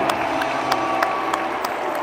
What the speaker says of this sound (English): People are cheering abortion.